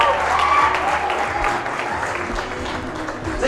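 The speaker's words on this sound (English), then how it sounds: "a very big round of applause" Audience applause at a school ceremony, a sustained burst of dense clapping from a crowd, loud and steady, with a voice faintly over it.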